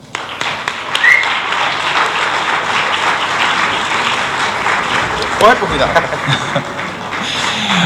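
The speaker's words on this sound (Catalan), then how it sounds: "rebem amb un fort aplaudiment a l'Arnau Gòdia." Audience applause at a children's film screening event, a sustained dense clapping from a crowd that starts suddenly and stays steady, with some voices mixed in near the end.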